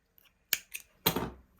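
Scissors snipping off a crochet yarn tail, a few quick sharp metallic cuts in succession, close and crisp against near silence.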